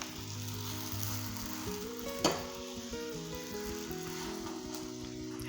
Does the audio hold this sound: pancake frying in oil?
yes